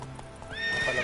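Geralt's horse Roach in The Witcher 3 video game gives a loud, close whinny that rises at the end, with a few hoof clops beneath it.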